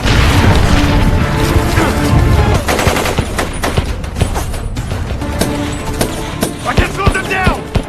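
Dense gunfire from a sniper shootout in a film, heavy booming bursts that give way to sharp scattered shots and metallic clatter, with a voice faintly underneath.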